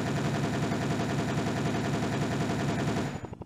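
Rapid continuous automatic gunfire from a fast-firing gun in the Windows XP game Beach Head, a dense loud stream of shots that cuts off abruptly near the end.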